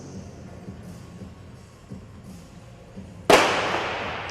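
A single sharp starting-gun shot cracks out to begin a masters 60–64 scratch race final in track cycling, loud and sudden after a quiet venue murmur, followed by a lingering echoing tail.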